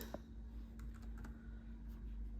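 Quiet, scattered keystrokes on a computer keyboard as a search is typed into Microsoft Word, faint clicks over a low electrical hum with no voices.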